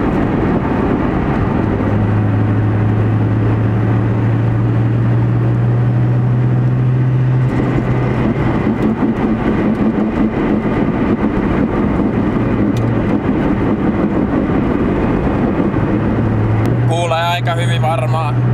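A Toyota Chaser fitted with new exhaust piping idles and then revs, its exhaust giving a steady, rattling rumble up close. The engine pitch shifts as the throttle is raised, and a voice is briefly heard near the end.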